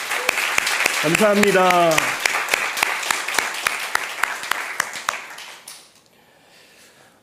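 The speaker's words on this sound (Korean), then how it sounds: "하나님께 영광의 박수 우리 올려드리겠습니다." Church youth congregation at a Sunday youth service applauding together, a rhythmic burst of clapping that tapers off and fades to near silence, with a brief spoken thanks over it.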